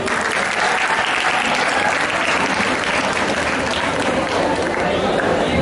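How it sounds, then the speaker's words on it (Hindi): Applause from the audience at a homeopathic medical college convocation as scholarship winners are named, a continuous, dense clapping that holds steady throughout, with a faint hint of voices beneath. "इनके लिए तालियां।"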